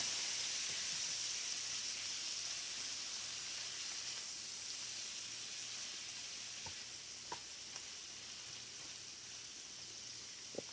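Shrimp frying in a hot pan, a steady quiet sizzle and hiss with a few small pops and clicks near the end, no talking.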